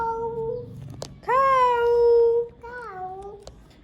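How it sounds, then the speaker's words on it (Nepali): A cat meows twice, close and clear: a short call, then a longer rising-and-falling meow, followed by a softer, drawn-out meow near the end. "म्याउ म्याउ बिरालो"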